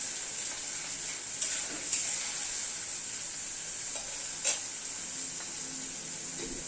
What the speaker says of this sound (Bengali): মশলাটাকে কষিয়ে নিচ্ছি।